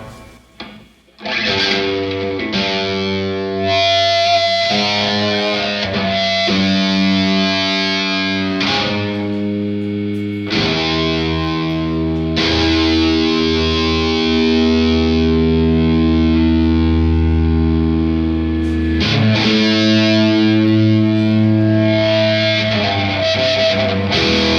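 Electric guitar in a live blues performance, drenched in noise and sustained feedback, with distorted droning tones and shifting held pitches swelling loud and continuous throughout.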